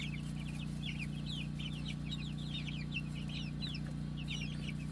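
Chickens and roosters cluck and chatter in a continuous busy chorus on an off-grid homestead, over a steady low mechanical hum, fairly faint and close.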